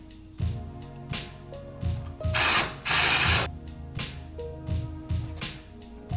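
Ratchet working on bolts of a transmission bracket during an engine-out repair, giving short bursts of clicking separated by pauses, with a louder broadband rasp in the middle and clanking from handled parts.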